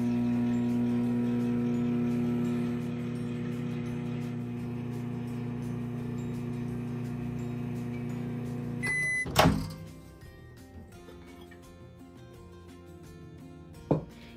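A microwave oven heating oil for soybean curry, a steady low humming drone for several seconds that stops with a sharp click, followed by quiet and a second faint click.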